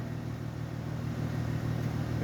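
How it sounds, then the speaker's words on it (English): Exhaust of a running 2008 Mercedes-Benz C230 4Matic rumbles in a steady low drone, heard up close at the tailpipe, even and continuous without voices. "Shot of the exhaust with the motor running."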